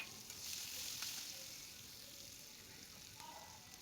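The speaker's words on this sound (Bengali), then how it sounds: "দিয়ে দেবো পেঁয়াজ কুচি।" Chopped onion sizzles and fries in mustard oil with black cumin and bay leaf seasoning, a steady close hiss with faint stirring touches throughout.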